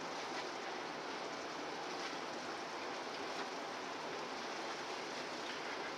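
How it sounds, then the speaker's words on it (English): Dense, continuous bubbling hiss of water at a rolling boil, steady and close, with no voices. "So we got a pot of boiling water."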